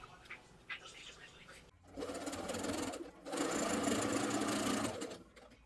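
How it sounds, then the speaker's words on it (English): A sewing machine stitches the hem of a bomber-style jacket with its lining, running in two sustained bursts of steady, loud mechanical whirring after a quieter start with light handling noises. "then sew the hem together"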